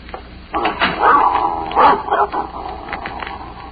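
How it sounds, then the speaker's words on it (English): Dog barking in a radio drama, a few gruff, close barks and yips in quick bursts, fairly loud, with some muffled vocal background. "I don't think your dog likes me, Mrs. Gillis."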